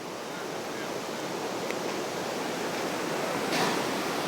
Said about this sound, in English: The rapids over there.